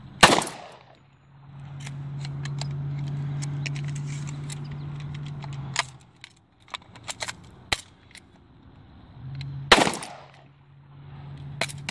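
Homemade gun being test fired: a sharp shot at the start, then scattered clicks and clatter of handling, and another loud shot near the end, with a steady low hum underneath for stretches.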